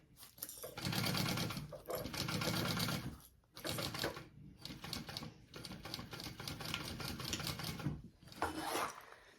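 A sewing machine runs in several close, loud bursts of rapid mechanical stitching along a fabric seam, separated by brief pauses where the needle stops.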